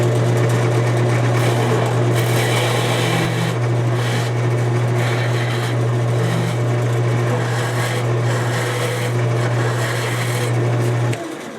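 A wood lathe spins a burl bowl while a tenon is cut with a gentle taper, giving a loud steady motor hum under continuous scraping and rasping of the tool on the wood, close and without talk.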